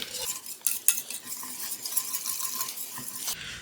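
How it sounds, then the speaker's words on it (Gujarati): Dal makhani stirred with a spoon in an opened pressure cooker over medium gas, soft scraping and occasional metallic clinks over a faint hiss, close by. "મીડિયમ ગેસ ઉપર આપણે એને ફેરવતા રહીએ."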